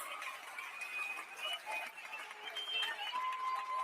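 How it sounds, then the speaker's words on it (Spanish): A crowd claps steadily for young musicians, a bright sustained patter of many hands, with cheering voices and a few whistles mixed in. "Los aplausos, fuerte, arriba esas manos, fuerte los aplausos"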